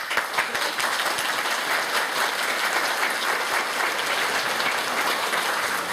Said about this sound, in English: I know that your applause will be spontaneous, but if we could just have a little rehearsal for sound levels.